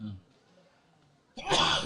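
A short, breathy burst near the end sounds like a sneeze, following a brief vocal sound and a quiet pause.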